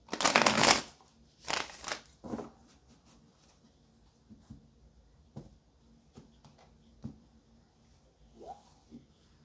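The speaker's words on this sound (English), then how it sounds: "All right, last shuffle." Tarot cards being shuffled at close range, opening with a loud riffle burst and a few more bursts, then trailing off into light, scattered taps and card handling with quiet pauses.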